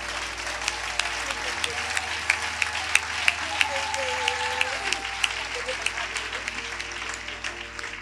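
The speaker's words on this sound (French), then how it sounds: "Est-ce qu'on peut mettre nos mains ensemble pour acclamer une parole aussi puissante?" A French-speaking church congregation breaks into sustained applause during a worship service, steady clapping from many hands with a few sharper claps standing out, under a low held organ or keyboard tone.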